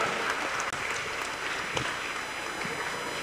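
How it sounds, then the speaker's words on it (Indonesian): Steady clapping from a stand-up comedy audience, a dense continuous patter of applause with a faint voice underneath. "Wah itu tepuk tangan."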